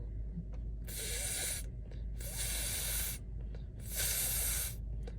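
Three long, loud bursts of hissing air sound close by with short quiet gaps between them, a voice imitating air escaping, like air from a flat tire, describing a fault on a 2022 Mercedes-Benz GLE450 4Matic.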